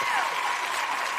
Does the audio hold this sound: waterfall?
no